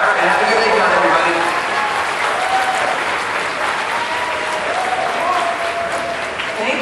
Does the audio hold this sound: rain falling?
no